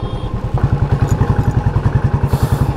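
A motorcycle cruising on a highway between Mount Abu and Mehsana, its engine thrumming in a steady, pulsing rhythm close to the microphone, with a faint clatter and no voices.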